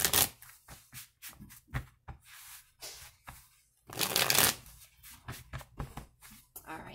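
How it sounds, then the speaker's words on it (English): Tarot cards are shuffled by hand in a steady run of crisp riffling and slapping bursts, close and fairly loud, with one longer dense burst midway and a brief voice heard in places. "I already did some pre-shuffling, so I don't want to over-shuffle the cards."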